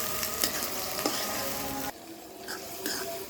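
Chopped onions frying in a pan while being stirred, a dense, steady sizzle with soft scraping strokes, cut off abruptly partway through, then fainter crackle and stirring sounds.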